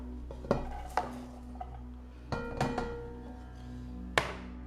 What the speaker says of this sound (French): je vais prendre mes oignons et les mettre dans ma cocotte en fonte